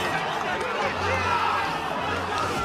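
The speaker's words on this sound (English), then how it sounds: "with all of the moving pieces and this massive crowd, as they become so electric, it's a bit difficult to hear what's going on" A massive, electric stadium crowd at the 2019 College Cup soccer final between Georgetown and Virginia roars in a continuous wash of cheering and chatter, with a commentator talking over it.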